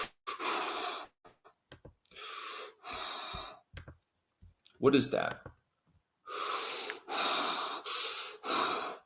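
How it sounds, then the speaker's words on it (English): A person breathes heavily and pants in short, rapid bursts between stretches of talking, with a loud gasp-like snort in the middle. "He is breathing heavy, panting."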